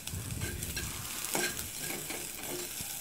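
Bitter gourd fries in a pan for an Assamese recipe, with a continuous soft sizzle and occasional spatula scrapes as it is stirred, no speech over it.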